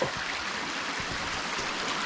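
Water flowing into the punch bowl at Turkey Run state park, a steady rushing stream of moderate loudness with no voices.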